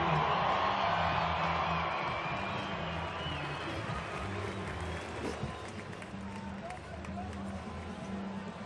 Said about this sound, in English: the crowd always loves it